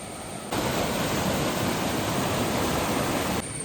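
Water spills over a small check dam on a forest stream at Pallikkathodu in Kottayam, a loud, steady rushing roar that cuts in abruptly and holds constant.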